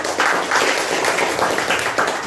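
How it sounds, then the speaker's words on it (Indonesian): A classroom full of people claps steadily, a dense wash of applause that holds at an even level throughout. "tepuk tangan untuk kelompok"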